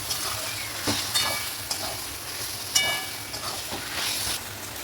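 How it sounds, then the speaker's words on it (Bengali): Chicken pieces frying in a spice masala for a Gondhoraj chicken, giving a steady close sizzle with occasional louder spits and scraping stirs, no talking over it. "মাংস দিয়ে মশলাটা এখন ভালো করে কষিয়ে নেবো মাংসটাকে।"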